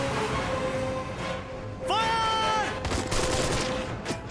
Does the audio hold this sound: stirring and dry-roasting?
no